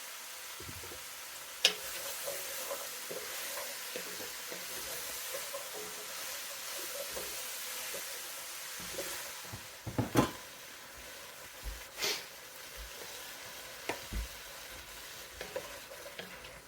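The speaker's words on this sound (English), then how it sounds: "I don't want to burn the garlic. So we're just going to stir this around for a little bit." Garlic sizzles in oil in a soup pot, a steady hiss of frying beneath irregular scrapes and knocks as a utensil stirs it, with a few sharper clanks against the pot's side.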